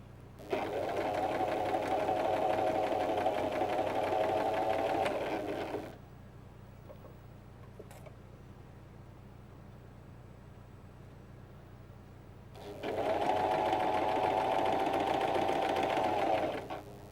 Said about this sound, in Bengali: আমি মিডিয়াম সাইজের সেলাই দিচ্ছি।